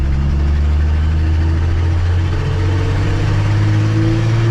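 A 1967 Ford F250 truck engine driving in third gear on the highway at light throttle, a loud, steady low drone with road and wind rumble throughout, no speech.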